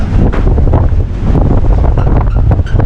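Strong typhoon winds from Typhoon Ulysses in Pangasinan batter the microphone at a high spot, giving a continuous loud, rumbling roar with gusty buffeting throughout and no pause.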